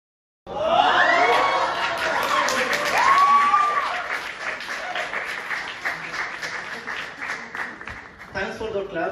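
Open mic crowd bursting into applause with cheers and whoops, loud and close at first, then easing into steady clapping that continues for several seconds.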